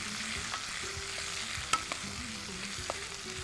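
Onions with fennel seeds and curry leaves sauté in hot oil, a steady close sizzle with a few soft clinks of a spoon against the pan.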